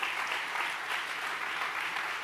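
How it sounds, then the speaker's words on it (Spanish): A church congregation gives steady, dense applause, a continuous wash of many hands clapping at even loudness with no talk over it. "Dele un buen aplauso de alabanza al Rey de Gloria."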